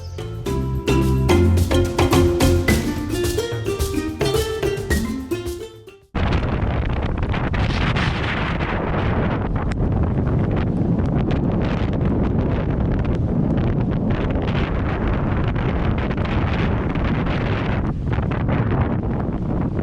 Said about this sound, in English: Hammered by another storm, man.